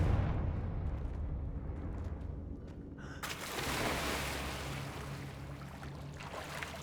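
An explosive Confringo spell in the video game Hogwarts Legacy bursts partway through with a sudden, broad roaring blast, then lingers as a rumbling wash over a low, steady background.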